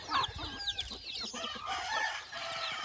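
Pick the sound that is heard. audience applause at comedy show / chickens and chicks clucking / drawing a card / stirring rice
chickens and chicks clucking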